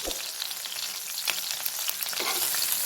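Kebabs for kabab handi frying in hot oil, a dense continuous sizzle and crackle heard up close with a couple of soft bumps, no talking.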